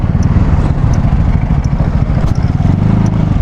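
A motorcycle rides along a provincial road in Tarlac, its mid-pitched engine droning steadily and close throughout, with light clatter over the rumble.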